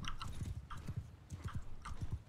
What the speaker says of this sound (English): These horses are following me.